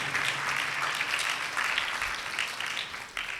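Congregation applauding during Sunday Mass in a Catholic church in Lahore, a steady, full crowd clapping that fills the room without pause.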